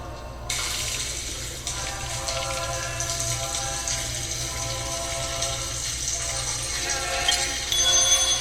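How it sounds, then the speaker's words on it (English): Water gushes and overflows from a running tap into an old-fashioned bathroom sink set in 1901, a steady loud rushing stream that continues throughout with faint background sound. "There's an absurd amount of water in that sink."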